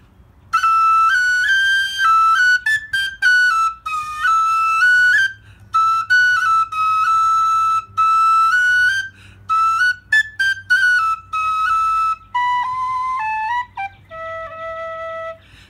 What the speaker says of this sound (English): I'm just using a woody whistle here.